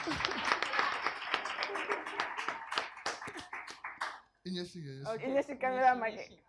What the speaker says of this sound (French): Mais vous l'accompagnez avec des applaudissements